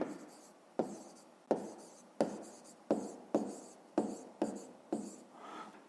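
An equation is written out by hand, with about nine sharp pen or chalk strokes at a steady rhythm, each starting crisply and trailing off. The strokes are close and fairly quiet, with no talk.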